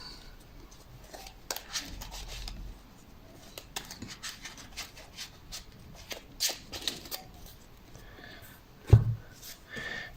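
Soft riffling and scraping of a Magic: The Gathering deck being shuffled close by, a steady run of light papery rustles ending with a sharper slap near the end.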